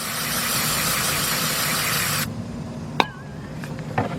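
Aerosol cleaner hissing in a long continuous spray onto a rag beside the throttle body of a 2000 Nissan Maxima, close and steady for about two seconds before stopping abruptly, followed by faint clicks and handling sounds.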